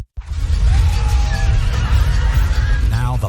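Horses neigh loudly during a cavalry clash in the video game Rome: Total War, a long whinny over dense battle noise and hooves, with a second shrill neigh near the end.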